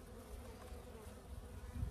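Honeybees buzzing inside a spring hive with debris on its floor, a steady low droning hum that holds evenly throughout and swells slightly near the end, with no talk over it.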